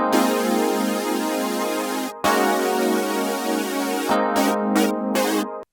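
A recreated arrangement of a song in sustained full chords, briefly cutting out once, then turning to short rhythmic stabs near the end, loud and alone.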